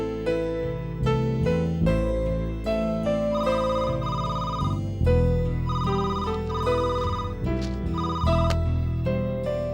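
A telephone rings in a domestic drama scene, its steady repeating electronic tones sounding close and clear over a full, even background with no talking.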